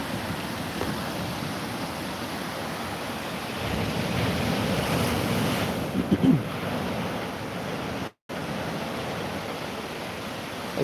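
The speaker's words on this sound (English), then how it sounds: "It's nice and calm, this bay here, Jervis Bay." Calm sea waves wash along a white-sand beach at Jervis Bay, a constant soft surf roar mixed with wind noise on the microphone, with a brief dropout near the end.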